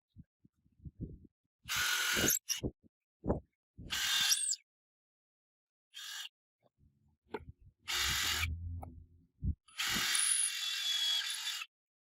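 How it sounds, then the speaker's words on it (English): Driftwood pieces drilled through by hand with a power drill, giving several short, loud bursts of drilling separated by pauses and small knocks and clicks of wood being handled, close by with no talking. "Once you have all of your wood drilled through"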